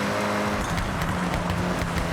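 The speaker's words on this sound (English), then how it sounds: "You can hear the engine has more power." Car engine in the Forza Horizon 6 racing game during a rally-style drive, a loud continuous roar with a steady droning pitch and no pauses.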